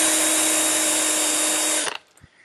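A rotary power tool wheel spinning against an old clear bra film on a car's hood edge, a loud, steady high-pitched whine that cuts off abruptly near the end, followed by faint clicks.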